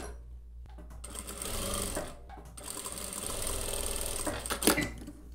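Sewing machine stitching a hem on a denim jeans pocket, a close, fast mechanical whirr in a few bursts separated by short pauses.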